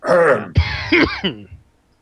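Harsh, rasping coughs and throat clearing in quick succession, close and loud, trailing off into silence.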